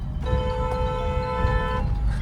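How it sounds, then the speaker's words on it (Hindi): A single steady car horn honk lasting about a second and a half, clear over low rumbling road noise. "चलो हॉर्न दे दीजिए"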